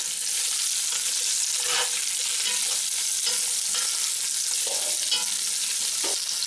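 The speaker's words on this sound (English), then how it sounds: "You should hear a slight sizzle as this hits." Hog testicles sizzle steadily in a hot pan, a constant hissing crackle with occasional soft scraping from stirring.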